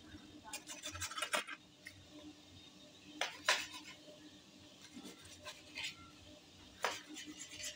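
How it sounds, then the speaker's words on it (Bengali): A knife cuts a fried egg into square pieces, giving several short scratchy scrapes in irregular bursts against a quiet kitchen background, close and fairly soft. "এবার আমি ডিমটাকে ছুরি দিয়ে চৌকো চৌকো শেপে কেটে নেব।"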